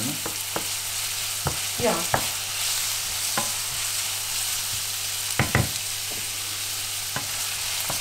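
Onion frying in a pan and stirred with a utensil for a vegan Indonesian tempeh wrap, a soft steady sizzle broken by repeated close scraping strokes, with one brief spoken word.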